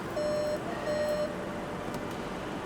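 A Skoda Karoq in reverse gear sounds its reversing warning: two steady electronic beeps about half a second apart, fairly faint over a broad hiss of background noise.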